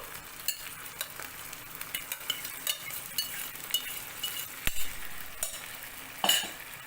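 Moong beans are stirred into a yogurt mixture in a pan, with a steady scraping and clinking of a spoon against the metal pan over a soft sizzle, in irregular strokes throughout.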